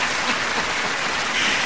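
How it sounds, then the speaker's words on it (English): A studio audience on a radio talk show claps steadily for nearly two seconds, a dense, even wash of hand claps close and loud with no voices over it. "Do my radio listeners agree? Give me a hand clap."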